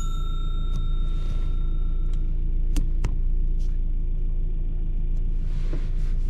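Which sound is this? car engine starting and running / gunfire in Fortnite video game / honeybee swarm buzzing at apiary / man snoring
car engine starting and running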